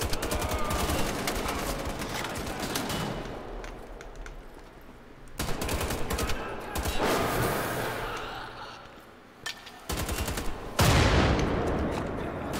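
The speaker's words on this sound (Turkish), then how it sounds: "Evet, dibimde bomba patladı." A bomb goes off close by in the shooter game Wolfenstein: The Old Blood, amid dense bursts of automatic gunfire, with a heavy blast standing out near the end.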